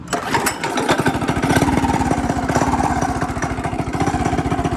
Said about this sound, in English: revving it like it's a two-stroke.